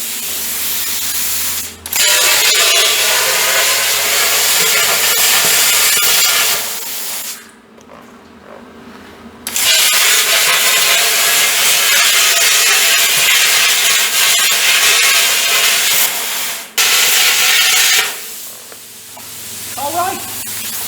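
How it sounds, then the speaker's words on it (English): A weld on a steel fuel tank for a 1940 Chevy coupe being cut out, a loud harsh hissing cutting noise in long sustained bursts broken by short pauses, close by. "Now, I gotta cut this weld out on the end and it should just fall off."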